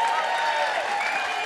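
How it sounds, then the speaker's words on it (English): A studio audience keeps up steady, dense applause on a football TV show, a continuous even wash of clapping with no breaks. "can you keep your applause going for Mitch Duncan from the Geelong Football Club"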